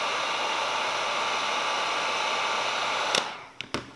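A heat gun blows hot air onto an RC car chassis skin for an Arrma Infraction, Limitless or Felony, a loud, steady roaring hiss that cuts off near the end, followed by a couple of sharp clicks.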